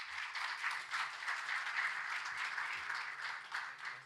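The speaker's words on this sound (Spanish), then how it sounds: "El aplauso, señoras y señores." Sustained audience applause for a speaker at a cooperative sector anniversary ceremony; dense, even clapping from a sizable crowd holding steady throughout.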